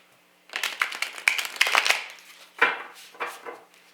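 Tarot cards are shuffled in quick riffling bursts, a flurry of crisp snaps followed by a second shorter shuffle, close by and with no talking.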